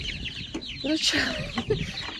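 Small backyard chicks and hens cluck and peep in short, scattered calls close by, with a person's voice faintly underneath.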